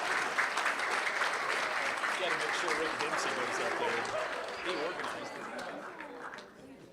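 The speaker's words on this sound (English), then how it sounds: "Let's give them one more round of applause" A school-board meeting audience applauds Champion High School's Stampede group, a dense, steady wash of clapping from a medium-sized crowd that slowly thins toward the end, with a few voices murmuring underneath.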